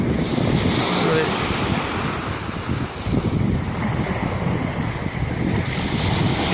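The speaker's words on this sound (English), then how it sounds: "There's gonna be some big waves coming here in a second." Ocean surf rolls in as a steady, loud wash of breaking waves, with wind buffeting the microphone along a beach.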